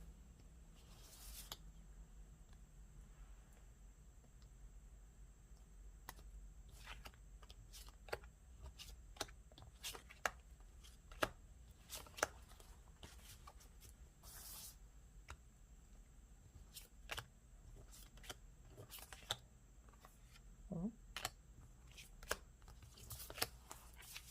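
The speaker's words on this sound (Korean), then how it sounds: "카드 뽑아보도록 하겠습니다" Tarot cards are shuffled and drawn in a quiet room: soft, scattered papery flicks and light taps, close and faint, come in irregular bursts over a low steady background hum.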